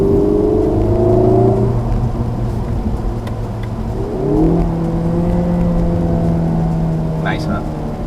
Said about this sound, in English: give it a very distinctive engine intake sound